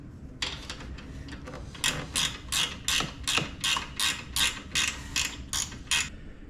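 A ratchet tightens crash bar bolts on a Yamaha Tenere 700 motorcycle. A few scattered clicks give way to about a dozen sharp, regular ratcheting bursts, close and fairly loud, with no talking.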